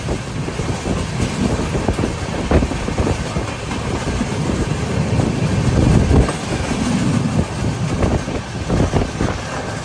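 A Kochuveli–Lokmanya Tilak superfast express in motion, heard from inside a sleeper-class coach nearing Shoranur Junction: steady loud rumble and rattle with occasional clacks and wind buffeting, continuous throughout.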